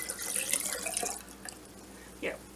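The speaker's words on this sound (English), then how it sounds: "pour this on in." Liquid pours into a jar while making a batch of fire cider, a trickling, splashing stream that runs steadily for a couple of seconds before tapering off into a few brief drips and a faint clink nearby.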